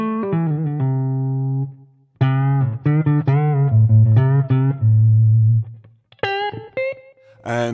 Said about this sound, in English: you're telling a story every time you do one of these microtonal bends